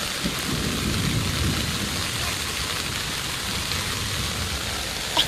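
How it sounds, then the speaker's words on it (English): Steady heavy rain pours through a thunderstorm outdoors, a dense continuous hiss with low rumbling underneath, filling the whole stretch without any voices. "I'm scared of the light, the thunderstorm, you know."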